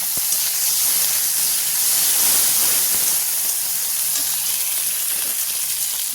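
A loud, continuous sizzling hiss of tomatoes frying with onions and green chillies in hot oil runs steadily throughout with no talking.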